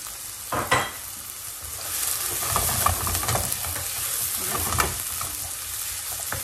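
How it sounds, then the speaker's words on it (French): Onions frying in hot oil, a continuous dense sizzle that swells after they go in, with a few stirring clatters, near and moderately loud, no voices. "Donc ici, on a l'huile qui est chaude. Là, je vais mettre les oignons dans un premier temps."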